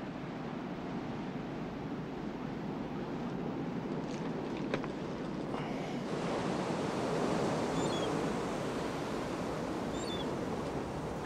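Ocean surf washes steadily along the shore in an unbroken, moderately quiet roar, with a breath of wind noise and faint high chirps late on.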